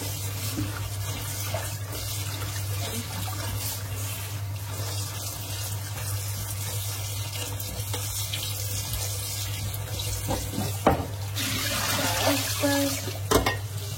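Water runs from a tap while corn is rinsed and swished by hand, with a low steady hum beneath and a few louder splashes near the end.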